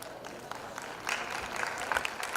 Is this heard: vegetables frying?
no